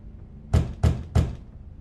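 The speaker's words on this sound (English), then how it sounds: "How polite of you to knock." Three firm knocks on a door in The Wolf Among Us, evenly spaced and close, each a dull thud with a short decay, followed by quiet.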